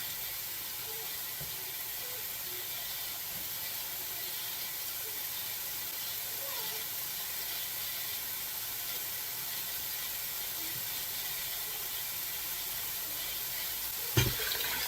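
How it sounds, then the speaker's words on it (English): Water pours steadily into a hot pot of pork noodle soup, giving a continuous soft sizzle and hiss, ending with a brief clank. "So now at this point, I'm going to add water, because after all I'm making soup."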